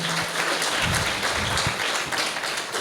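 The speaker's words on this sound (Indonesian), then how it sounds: "Sekali lagi beri tepuk tangan yang meriah." Loud, sustained applause from a church congregation after a choir's performance, a thick wash of many clapping hands filling the room with a few deeper thumps underneath.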